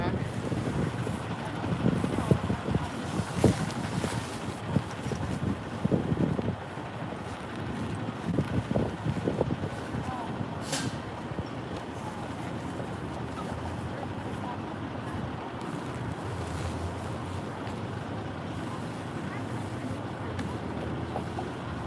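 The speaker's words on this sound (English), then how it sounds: "It's shaking like crazy for me with this wind." Strong gusts buffet a handheld microphone outdoors at a street protest, a continuous heavy rumble that swells and eases throughout, with brief voices underneath.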